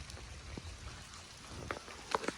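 Gentle rain falls softly in a rural village setting, a faint steady patter with scattered drops tapping nearby and a few brief sharper chirps near the end, with no voices.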